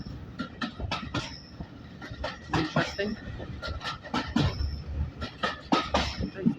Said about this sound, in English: Yeah, train. It's going by, guys.